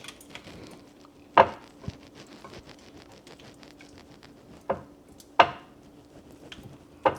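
Cooked rice spooned into a bowl at home while making a salmon dinner: a few isolated, crisp clinks and taps of a utensil against the bowl, with faint rustling between them in a quiet kitchen.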